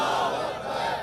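A large crowd at an Islamic religious gathering roars the Nara-e-Takbir slogan response in unison, a loud, dense, sustained chant filling the whole moment.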